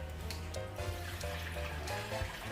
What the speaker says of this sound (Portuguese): Vou até colocar um pouquinho mais d'água aqui.